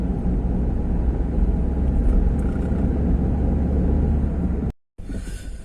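A budget car with 164,000 miles on it, made to look like a Lamborghini, driving along with its sunroof open: a steady low road and engine rumble, close and continuous, cutting out briefly near the end before resuming.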